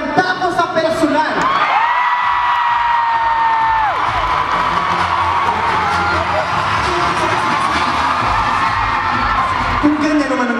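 Concert audience in Toronto cheering and whooping loudly, a dense sustained crowd roar with shouts rising throughout, while a voice speaks early on over the noise.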